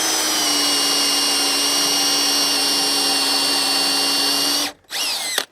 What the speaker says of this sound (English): So basically, this is how the plug cutter works.